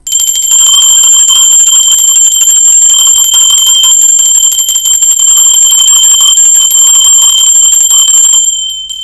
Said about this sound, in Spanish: Va campana, ser divino.